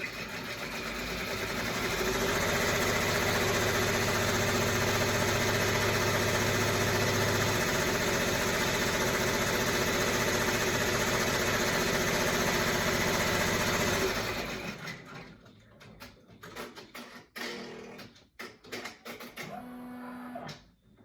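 Embroidery machine running a placement stitch on face mask fabric in the hoop, a loud steady mechanical whir and clatter that runs continuously for about fourteen seconds, then cuts out, leaving faint handling noises.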